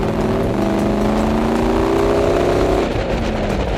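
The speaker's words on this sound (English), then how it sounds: "And let's not forget about the exhaust." A 1999 Lincoln Navigator's exhaust rumbles close by, with a steady low engine drone and a slowly rising tone as the revs climb, then easing near the end.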